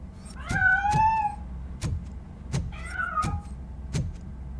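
Cat meowing in the RoboCop: Rogue City video game, two drawn-out wavering meows close by, separated by sharp knocking or clicking sounds against a low hum.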